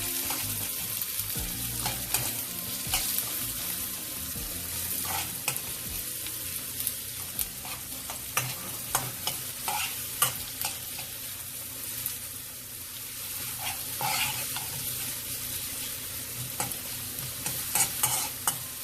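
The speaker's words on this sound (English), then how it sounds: "now we're gonna proceed to add the onions. We don't want to burn this." Onions lightly frying in a pan while being stirred, a steady soft sizzle broken by frequent scraping clicks of the utensil, close and moderately quiet with no talk.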